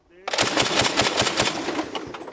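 Mark-19 grenade launcher fired by Air Force security forces on a training range, a rapid steady burst of heavy thumping reports lasting about two seconds, loud and close.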